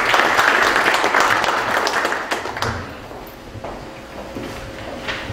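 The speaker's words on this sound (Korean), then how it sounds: "박수로 맞이해 주시기 바랍니다" An audience at a Korean youth football league draw ceremony applauds to welcome the Korea Football Association president; loud clapping fades out after a few seconds, leaving scattered taps and a quiet room.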